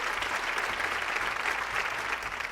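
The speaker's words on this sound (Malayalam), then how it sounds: "അതുപോലെ തന്നെ കടൽ ഇരുമ്പുന്നതിന്റെ കൂടെ ഇവിടെ കയ്യടിയുടെ ശബ്ദവും കേൾക്കാം" Applause from a small group of people at Avikkal beach, a steady dense patter of clapping that keeps going throughout with the wash of sea surf beneath it.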